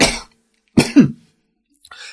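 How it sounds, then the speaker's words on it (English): A man coughs hard once, pauses, then coughs and clears his throat in a rough double burst, close and loud, followed by faint shuffling. "so this is going to be some live coughing"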